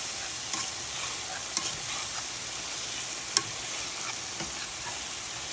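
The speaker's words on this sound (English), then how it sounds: "Then we're going to get us a whisk. And we're just going to blend everything in." A whisk stirs flour into a pan of gravy for pepper steak, a soft steady swishing over a low sizzle with a couple of faint taps against the pan.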